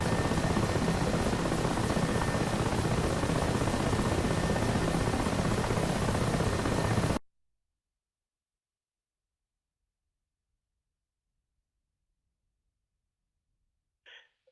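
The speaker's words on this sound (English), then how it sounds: "One guy's carrying my helicopter away." A helicopter in the DCS flight simulator, a loud, steady rotor and turbine roar that runs for about seven seconds and then cuts off abruptly into silence.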